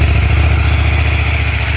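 A 2024 KTM Duke 790 on its stock exhaust idling close by, a steady, loud, low rhythmic throb with an even pulse and no variation in revs.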